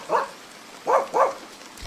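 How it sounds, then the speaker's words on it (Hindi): Three short barks from a dog some distance away: a single bark, a pause, then two in quick succession, faint against a quiet background. "दूर कहीं से कुत्तों के भौंकने की आवाज आ रही थी।"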